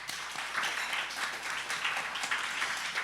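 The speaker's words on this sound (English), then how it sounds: "Let's give them a round of applause." An audience at a Long COVID clinical forum gives a round of applause, a steady, moderately loud patter of many hands clapping together, heard from a short distance with a faint hum underneath.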